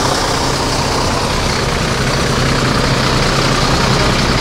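A single-glass super executive coach bus from Palembang idles loudly nearby, a dense, even rumble with exhaust roar filling the whole stretch without any voices.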